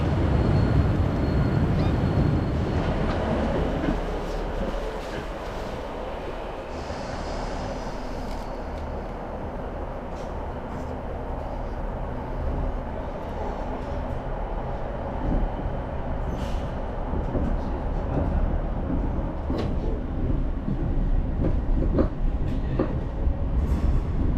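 A train sits at a suburban station on the Strathclyde rail network near Glasgow, giving off a low, continuous rumble that is fairly faint throughout, with light clicks and clatter above it and no talk.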